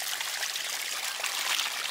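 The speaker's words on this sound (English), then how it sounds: "We'll step in to wash the feet in that fresh river water." A small fresh river flowing beside a country house in a Philippine province, a steady close rushing trickle with no voices.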